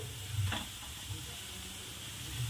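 Ground masala paste hits golden fried onions in a pan for dum aloo, sizzling softly while a spoon scrapes and stirs, with a brief louder scrape early on and a quiet continuous fry underneath.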